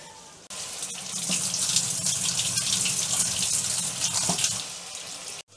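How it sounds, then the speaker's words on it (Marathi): Cut jackfruit seeds are washed under a running tap, with a steady close rush of water splashing into a sink and faint knocks as the seeds are handled, ending abruptly, with no talk. "तर आता या बिया मी धुवून घेते"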